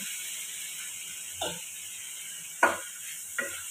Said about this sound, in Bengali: এবারে এঁচোড় আর আলুটা দিয়ে আমি এটা কষে নেব